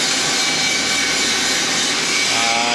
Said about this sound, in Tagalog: gamit po namin ang grooving machine, hydraulic grooving machine